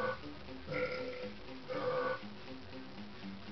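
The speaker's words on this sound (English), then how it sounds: "these guys burp, and you have to play the musical burps" Musical burps from the Donkey Kong 64 video game, two pitched, tonal belches each lasting about half a second, separated by a soft droning musical background, fairly loud and alone with no talking.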